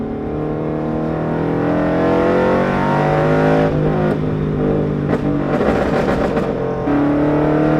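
A Toyota 86 engine on a 91-octane tune idles and revs steadily while sharp crackling pops burst from the exhaust in clusters, loud and close.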